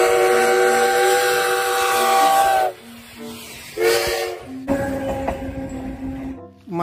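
A whistle-like tooting Thomas toy train sound, several loud sustained tones broken by short pauses and hissing bursts, close by.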